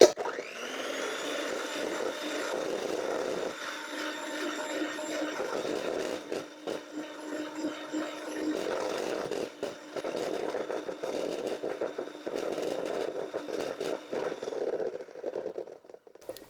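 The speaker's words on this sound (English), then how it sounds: "use an electric mixer to beat until mixture is thickened, but stop shy of reaching the soft peaks" Electric hand mixer whirring steadily as it beats a small amount of chocolate cake mixture in a bowl, a continuous motor whine with scraping fluctuations.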